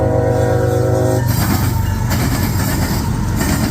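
A CSX intermodal freight train led by two locomotives rolls past eastbound near a rail diamond, a loud, close rumble with a horn blast at first, then heavy rhythmic wheel clatter.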